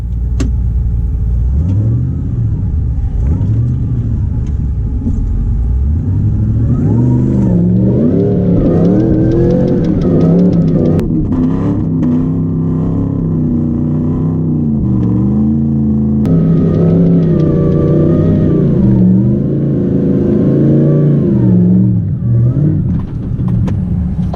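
A supercharged 6-litre V8 Nissan Patrol revs hard on a beach climb, its loud engine rising and falling in repeated surges as it strains, sustained and close throughout.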